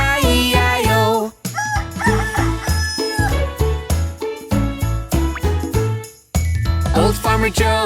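A cartoon rooster crows loudly inside a bouncy children's farm nursery-rhyme song, its warbling call riding over bright jingling music with steady beats and brief pauses.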